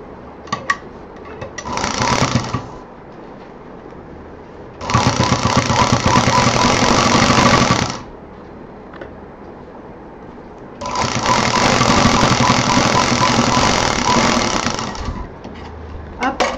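A sewing machine stitching a homemade fabric door mat runs in three bursts of steady, loud mechanical whirring, close by, with quieter pauses between them and a few small clicks.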